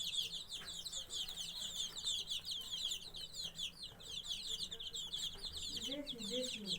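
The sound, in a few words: chicks clucking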